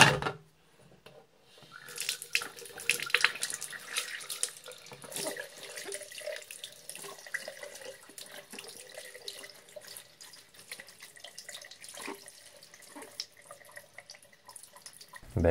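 Tap water runs steadily into a sink while a CAT S50 rugged phone is rinsed under it, a continuous close splashing with uneven spatters as the stream hits the handset.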